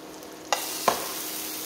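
Lime garlic scallops frying in a pan, a steady bright sizzle with two sharp clicks of a utensil or a scallop being turned, close by and with no one speaking.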